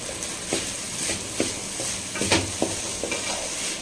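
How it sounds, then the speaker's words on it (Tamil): Cluster beans stir-fried quickly over a high flame, with a steady sizzle and repeated scraping stirs against the pan at a brisk, uneven rhythm, close and fairly loud. "நல்லா ஐ ஃப்ளேமில் ஃபாஸ்ட்டாக நம்ம இந்த மாதிரி மிக்ஸ் பண்ணணும்."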